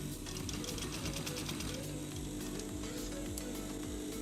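A sewing machine running steadily while stitching the middle of a clamshell pouch, fast continuous mechanical rattling, close and even throughout.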